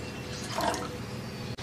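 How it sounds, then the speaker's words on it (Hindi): One cup of water poured into a saucepan for cooking bottle gourd makes a short, close splashing pour lasting about a second and a half. "सॉस पैन में 1 कप पानी का डालेंगे।"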